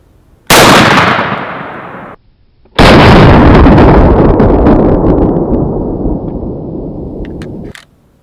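A Beretta A400 Xtreme shotgun fires 3.5 inch shells in two very loud, close blasts, each trailing off into a long rumbling echo.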